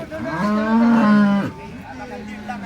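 A cow at a cattle market in Baramati, India, gives one long, loud low moo, then a shorter, softer moo follows, with faint background noise around it.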